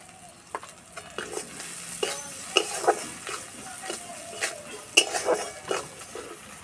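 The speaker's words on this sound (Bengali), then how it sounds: "হালকা আঁচে কিছুক্ষণ এইভাবে ভাজবো।" Onions with a little sugar and salt fry on low heat in a pan, with a soft steady sizzle broken by repeated close scraping and clinking stirs.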